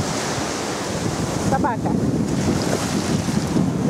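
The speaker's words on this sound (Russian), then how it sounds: "Волны какие." Ocean waves and surf wash steadily at a beach in South Goa, India, with wind buffeting the microphone throughout; a voice speaks briefly partway in over the constant roar.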